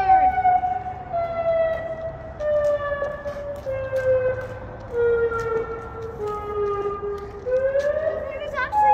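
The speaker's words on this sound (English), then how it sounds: "It's a tsunami warning. It's all along the coast." A coastal tsunami warning siren wails from a distance, its tone sliding slowly downward and then rising again, steady and unbroken over a low background hum.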